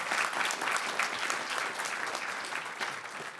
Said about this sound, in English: if you guys want to get the energy up, give a big clap